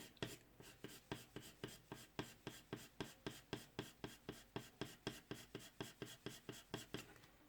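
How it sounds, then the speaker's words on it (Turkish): Pencil shading on paper, a regular back-and-forth scratching of graphite strokes repeated about three times per second, close and steady with no talking. "Karanlık kısmı gölgeliyorum."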